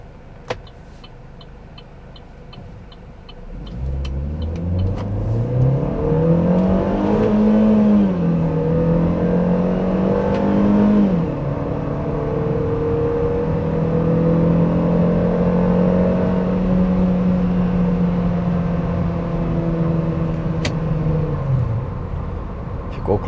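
A Chevrolet Cruze on the road, recorded from inside, accelerates hard with the engine note climbing steadily. It drops at each automatic-mode gear change and rises again, loud and continuous, with no talk over it.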